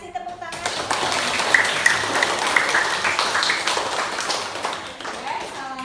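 Classroom applause from students after a presentation on democracy, a dense, steady patter of many hands clapping close by for several seconds, fading slightly toward the end.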